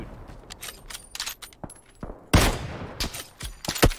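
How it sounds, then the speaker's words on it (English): Gunfire crackles through a PUBG match as sharp, close shots come in irregular bursts, with louder rapid volleys near the end and short gaps of quiet between them. "I'm shooting."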